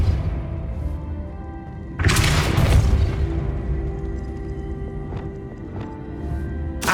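A Depulso force spell fires in Hogwarts Legacy on PS5, landing as one loud, broad burst of impact noise with a short rumbling tail over steady game ambience. Fainter clicks and thuds follow, with no talking.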